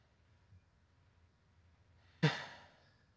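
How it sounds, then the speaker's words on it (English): A single audible breath, a short sharp sigh-like exhale, rises suddenly in the background of a quiet Doki Doki Literature Club game scene and fades over about a second. "There's breathing in the background."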